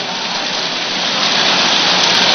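Steady rain pours down in a broad, even hiss throughout, close and loud, with no voices or other sounds standing out.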